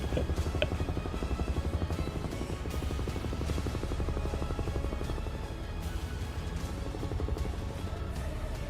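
A UH-1 helicopter holds a hover in MSFS 2024, its rotor beating in a steady, dense thump under a constant turbine roar that continues unbroken throughout.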